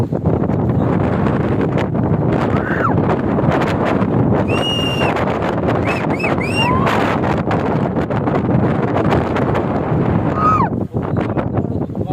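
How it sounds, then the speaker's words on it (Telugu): Strong wind buffets the microphone at the hilltop Kondaveedu Fort, a loud steady roar throughout with a few brief high-pitched calls or whistles rising above it. "నా లైఫ్లో ఇంత అద్భుతమైన గాలి మాత్రం ఎప్పుడు చూడలేదు"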